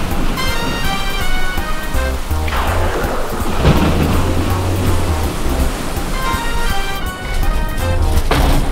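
A cartoon thunderstorm at sea: loud, continuous rain hiss with deep rolling thunder rumbles swelling through the middle and again near the end, with no voices.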